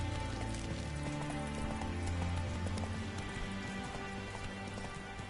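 Roach, a horse in The Witcher 3, trots with steady clip-clop hooves over a continuous rainy, rumbling game ambience, moderately loud and without voices.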